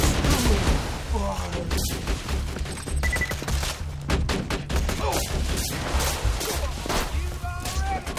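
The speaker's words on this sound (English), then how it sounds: "this pistol I have is a burst fire when you aim down the sights" Rapid burst-fire pistol shots in Borderlands 2, mixed with other gunfire and explosions in a dense, loud firefight, with players talking over the action.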